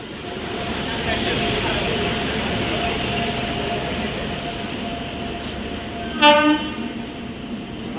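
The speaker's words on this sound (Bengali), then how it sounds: "ট্রেন চলে এসেছে।" A train pulls into Panagarh station platform with a steady loud rumble of wheels and carriages, and a short horn blast sounds near the end.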